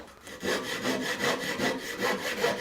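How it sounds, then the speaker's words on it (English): A hand saw rough-cuts a wooden butter knife blank, its steady back-and-forth strokes rasping through the wood in a close, continuous rhythm of about five strokes with no talking. "And so we'll rough cut this out with our saw."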